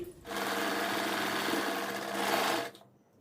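A sewing machine stitches the seam of a blouse in one steady, loud burst of about two and a half seconds, starting and stopping abruptly with no talking.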